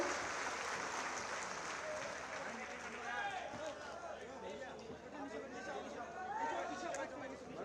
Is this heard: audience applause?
yes